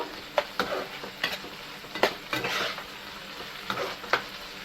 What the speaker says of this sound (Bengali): টমেটো দিয়েও আমি এক থেকে দেড় মিনিট ভালো করে মশলা কষাই নেব